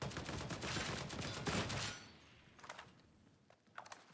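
Rapid automatic gunfire hip-fired in Warhammer 40K: Darktide, a dense sustained burst for about two seconds, then a few scattered lighter shots and thuds trailing off.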